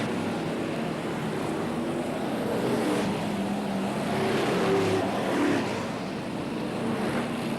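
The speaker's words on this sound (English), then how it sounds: "These really big, powerful engines in these motors absolutely rocking the commentator's box." Loud F1 stock car engines roar continuously at a 1970s oval race meeting, a dense rumbling wash with swells as cars pass close by, heard without speech.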